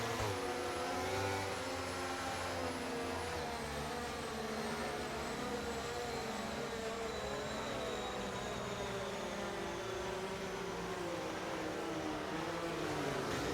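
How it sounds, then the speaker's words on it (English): Racing car engines from the Quantum Racing League game hold a steady, sustained high-revving drone with a whining tone that glides slowly downward, loud and continuous, with no talk over it. "Ignore the high revs glitch, by the way,"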